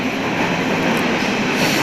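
Train rumbling through an S-Bahn station in Berlin, a loud steady roar of wheels on rails with faint rattling, close and unbroken, no talk.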